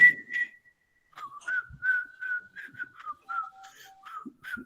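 Someone whistles a string of short, bright pitched phrases imitating birdsong, with brief pauses between notes, heard close and alone.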